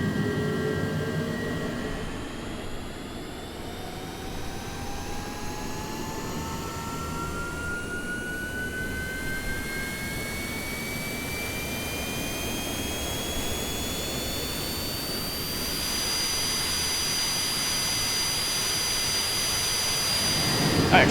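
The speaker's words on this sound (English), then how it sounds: "start up the APU. All right, APU is firing up." A business jet's APU starts up in a flight simulator game, a steady roaring whine whose tones climb gradually as it spools up, growing slightly louder toward the end.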